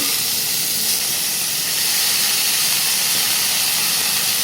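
Chopped spinach hitting a hot pan in an egg and spinach stir-fry, giving a steady, loud broadband sizzle and hiss that swells slightly partway through.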